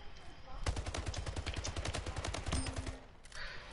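Rapid automatic bursts from a battle rifle in the sci-fi arena shooter Splitgate, a steady run of close, loud shots lasting a few seconds before stopping, with game sounds around them.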